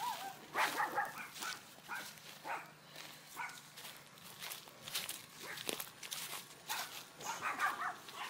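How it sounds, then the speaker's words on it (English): Several dogs bark in repeated, scattered yaps and woofs at a moderate distance, fairly faint overall, with footsteps moving along underneath. "The dogs are going crazy."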